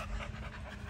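An American Bully dog panting close by, quick steady breaths filling a brief moment with no talking.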